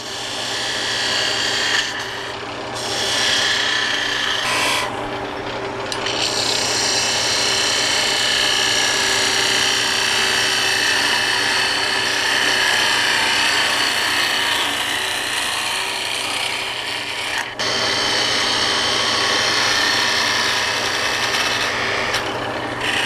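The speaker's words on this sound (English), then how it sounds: "Switch to a 1/2 inch spindle gouge here." A 1/2 inch spindle gouge cuts a twig vase spinning on a wood lathe, giving a loud, continuous rasping scrape with a steady motor hum underneath and a few brief changes where the tool lifts and reengages.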